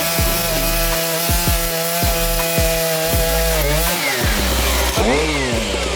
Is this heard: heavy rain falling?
no